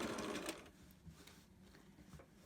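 Sewing machine back stitching the last seam of a zipper pouch: a quiet, close stitching burst that slows and fades into softer intermittent needle ticks.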